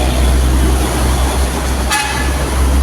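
On the Jakarta–Cikampek toll road, a car horn blares in one long sustained honk over loud, steady road rumble.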